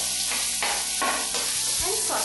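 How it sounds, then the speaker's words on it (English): Chopped onion hits hot refined oil in a pan, a dense, loud, continuous sizzle with a few stirring swells, close and alone without talk. "add the chopped onion"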